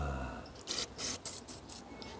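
Several short hissing bursts of WD-40 aerosol sprayed onto a part of a K11 Nissan Micra during pre-MOT checks, each spray about a quarter second long, close and fairly clear over a low background hum.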